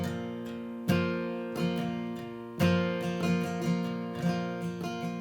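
A guitar strummed with a pick in a steady rhythmic pattern, bright chords ringing out with sharp attacks, alone and clear.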